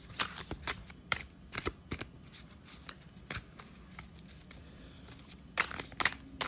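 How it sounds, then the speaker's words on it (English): A deck of cards is shuffled into the left hand in quick riffling bursts, several short crisp rounds of flicking paper close to the listener, with quiet pauses between. "shuffles into my left hand"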